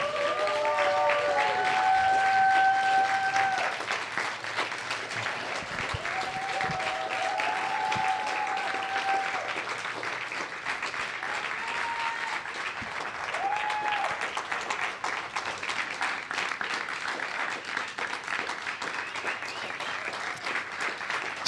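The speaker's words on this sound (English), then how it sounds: "So please, everybody, give me a warm round of applause for the 2024 Blue Mind Award" An audience at a flotation conference keynote gives sustained applause for the 2024 Blue Mind Award. It starts strong and dense and then holds as an even wash of clapping, with brief whistles and cheers near the start.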